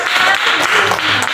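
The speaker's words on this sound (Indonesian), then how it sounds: "Iya, tepuk tangan." Schoolchildren clap their hands together in an Indonesian classroom during a teaching practice lesson, a loud, dense, continuous burst of clapping that lasts briefly.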